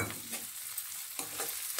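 Onions and red tomatoes fry in a pan, giving a constant close sizzle with bursts of scraping as a spoon stirs them a few times.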